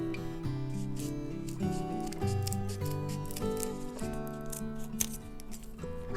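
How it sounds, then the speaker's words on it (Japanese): Scissors snip through layered origami paper while a paper heart-petal shape is cut out, close and crisp. The short cuts come in a steady uneven rhythm, with soft rustling between them and no talk. "ハサミで切り抜きます。"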